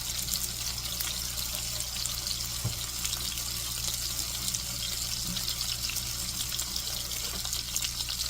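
Hands being washed under a running kitchen tap, a steady close hiss of flowing water with faint splashes throughout, no talking.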